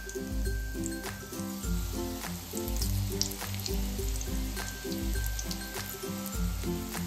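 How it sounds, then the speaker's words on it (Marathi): Besan-coated green chillies deep frying in oil give a continuous bubbling sizzle, with a low pulsing hum running steadily underneath. "आता ह्या नुसत्या बेसनात तळून घेऊयात ह्या मिरच्या सुद्धा."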